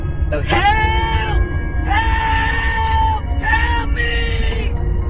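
A loud, drawn-out high-pitched scream from outside a house rises and breaks off, then comes again in two shorter bursts over a steady low background rumble.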